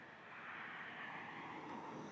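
An airplane drones overhead, a steady faint roar of engines that holds level throughout.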